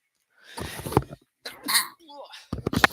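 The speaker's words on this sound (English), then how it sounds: "sorry, I just have to sneeze." A single sneeze bursts out between stretches of someone talking, sharp and close.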